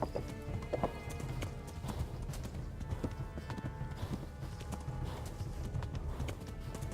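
Horse hooves clip-clop quickly and steadily in Kingdom Come Deliverance, a riding gait heard close against a busy ambient game backdrop, with a faint whinny.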